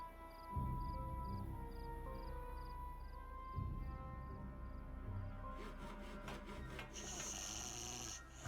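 A cartoonish beaver character in Timberborn snores in two slow, deep drawn-out breaths over soft game music, followed by a bright chiming bell near the end.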